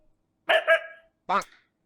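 A person imitates a dog with two short, barked "woof" sounds, one doubled and one single, close and clear against silence.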